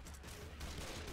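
Pistols fire in the Left 4 Dead 2 zombie shooter as a dense, muffled burst of shots that stays fairly quiet and continuous under the game's background noise.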